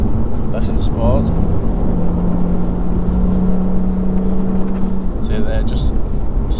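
A Lotus Evora in sport mode drones steadily from inside the cabin, its engine note rising and then breaking off at a gear change, loud and continuous with road noise.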